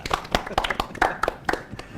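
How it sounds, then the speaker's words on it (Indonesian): A short burst of hand clapping from a few people, quick uneven claps close by, with voices mixed in. "Kasih tepuk tangan dulu dong"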